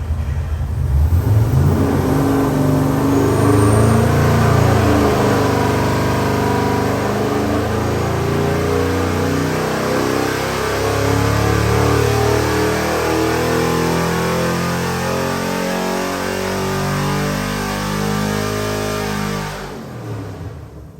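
An LS 427 cubic inch V8 on a dyno climbs steadily in pitch as it revs toward 6200 rpm, a loud, smooth, sustained roar that drops away sharply at the end.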